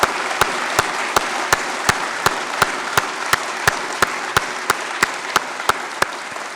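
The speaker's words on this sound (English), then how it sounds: "I think all of us need to stand up and give all of them a big round of applause" An audience at an address by India's Minister of Commerce and Industry gives a long round of applause. Steady, dense clapping runs throughout, punctuated by sharp, evenly spaced beats, like rhythmic clapping in unison.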